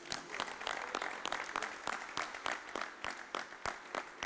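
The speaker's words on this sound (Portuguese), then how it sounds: "Salva de palmas para Jesus." A congregation at a Sunday church service applauds, producing steady, dense clapping from many hands that carries on through the whole stretch with small swells, and some faint voices sit underneath.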